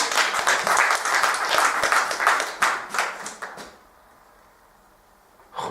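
A church congregation claps and applauds for the Lord in a dense, loud burst that tapers into scattered claps and then near silence.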